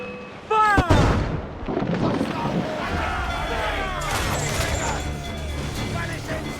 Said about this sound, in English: Try the mortar!